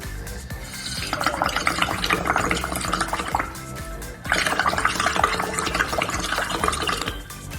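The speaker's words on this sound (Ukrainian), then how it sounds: "Якщо взяти склянку з водою і подмухати в неї через трубочку, то вода в склянці почне бурлити." Air blown through a straw into a glass of water makes a steady close-up bubbling and gurgling in two long bursts separated by a brief pause.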